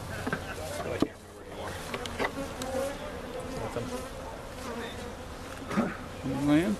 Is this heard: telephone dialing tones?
no